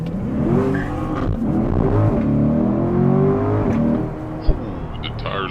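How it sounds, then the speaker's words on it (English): A stock 2023 Corvette C8 Stingray Z51 and a 2023 BMW M3 Competition launch side by side in a street race. Their engines roar in a loud, sustained rev with whirring, shifting pitch and tires breaking loose, ending in a sharp knock. "Ooh, the tires broke loose."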